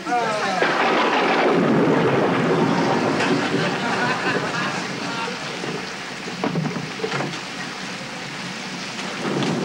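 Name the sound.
heavy rain pouring outside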